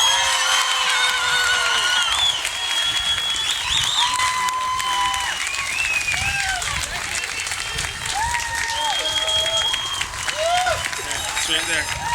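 A graduation crowd at Maui Prep applauds steadily with dense, loud clapping, and scattered whoops and cheers rise above it throughout.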